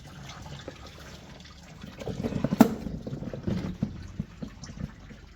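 Dark fuel draining from a 1973 GMC grain truck, a faint, thin trickle and patter of liquid with a brief stronger splash partway through, heard close and without talk.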